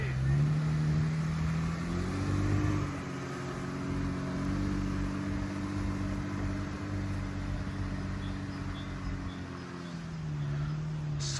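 A Jeep Rubicon with all four wheels locked climbs an off-road slope, its engine droning and shifting pitch as it pulls steadily uphill, close and sustained, with a brief rise in revs near the end.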